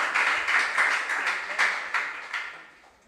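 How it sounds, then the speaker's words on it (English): An audience at a junior science and maths quiz regional qualifier at the KNUST e-Learning Center claps in a bright, even patter that fades away over about three seconds. "Clap for yourselves for being here."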